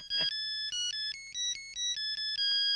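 A mobile phone ringtone plays in a comedy film scene, a loud, clear electronic melody of stepped repeating tones that runs on steadily with no talk over it.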